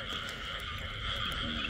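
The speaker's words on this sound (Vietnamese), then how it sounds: "Ếch như gì bắt mới sướng anh Nguyên ơi" A dense chorus of frogs croaks continuously in a flooded rice field, a steady buzzing, trilling mass of calls close by with a faint voice in the background.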